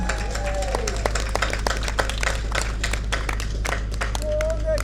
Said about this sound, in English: So give yourself a round of applause, please.